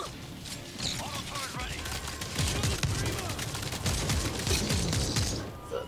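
An auto turret fires in the co-op zombie shooter World War Z during the Tokyo episode: rapid bursts of automatic gunfire and mechanical clatter keep going under other combat noise, steady and fairly loud throughout.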